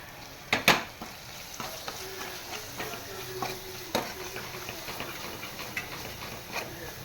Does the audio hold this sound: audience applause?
no